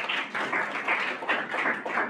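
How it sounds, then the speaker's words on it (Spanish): A live audience applauds for a woman novelist at a literary book presentation, steady dense clapping that fills the room for about two seconds with no voices over it. "Con el aplauso de ustedes nuevamente para la maestra Ana Molina"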